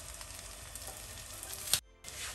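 Broccoli and sweet corn fritters sizzle in a frying pan, a steady soft crackle that cuts out briefly near the end before resuming.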